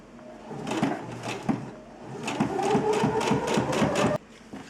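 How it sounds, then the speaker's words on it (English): Up close, a domestic sewing machine understitches a garment seam, starting with a few slow separate thumps, then running a quicker even burst of stitching before stopping abruptly. "Just stitch really close to the stitch line of the seam without catching anything underneath."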